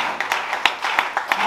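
Applause from an audience at a church conference, a handful of separate claps standing out over a steady background murmur, moderately loud and close.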